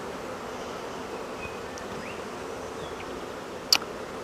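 Honey bees drone in a steady, diffuse hum around an opened hive during a hive split, with a faint continuous buzz and a single brief sharp click near the end.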